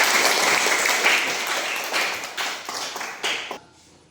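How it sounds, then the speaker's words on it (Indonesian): A small group of students claps in a classroom during a Christian religious education lesson, the applause starting dense and then thinning into a few scattered, separate claps before stopping abruptly. "tepuk tangan"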